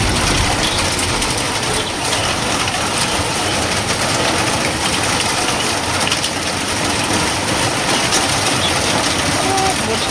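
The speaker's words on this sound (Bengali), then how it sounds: "আজকে এতটা পরিমাণে বৃষ্টি হচ্ছে যে কি বলবো" Heavy monsoon rain pours down outside a home in a constant, loud, broadband roar that never lets up, with a faint voice occasionally underneath.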